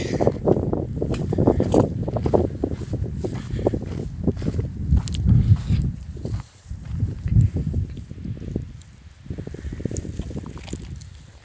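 Strong gusting wind buffets the microphone in rough bursts on a snowy ridge of the Pacific Crest Trail, with crunching footsteps underneath and no speech.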